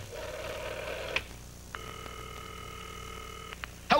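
Telephone tones heard after a dime drops into a payphone: a brief high tone, a click, then a steady layered line tone for about two seconds, ending in a short clatter.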